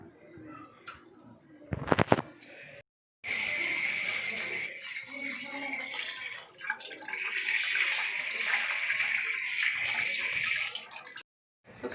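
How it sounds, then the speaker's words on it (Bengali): Hands washed under a running tap, heard as a steady hiss of water splashing, broken by short pauses, with a few brief knocks and handling sounds in between. "হাত ধোয়া হয়ে গেছে"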